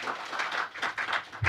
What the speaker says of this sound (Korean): 다시 한번 박영실 사무관님과 정우현 선임 연구위원님께 큰 박수 부탁드리겠습니다